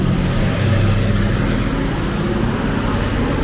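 Dense road traffic on a Bangkok street, a loud, continuous roar of engines and tyres with a heavy low rumble and no clear breaks.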